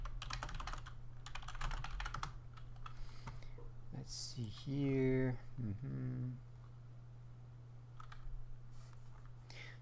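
Rapid clatter of a loud computer keyboard during a PVP gaming session, with bursts of typing at the start and end and someone talking briefly in between over a steady low hum.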